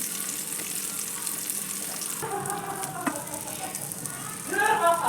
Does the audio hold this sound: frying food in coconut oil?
yes